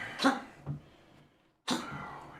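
Two rough, hacking coughs close by, separated by a brief pause, then a third harsh cough after a moment of near silence.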